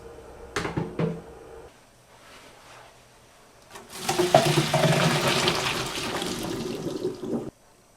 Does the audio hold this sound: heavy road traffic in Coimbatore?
no